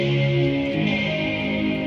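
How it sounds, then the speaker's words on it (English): An electric guitar rings out through effects including reverb, saturation and compression, with sustained chord tones lingering under a hazy wash. "I have kind of an electric guitar"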